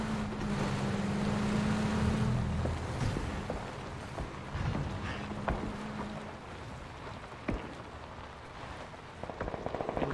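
Continuous droning vehicle engine in the battle royale game PUBG, with a low hum and a noisy rattling wash that stays steady throughout, punctuated by a few faint clicks near the end.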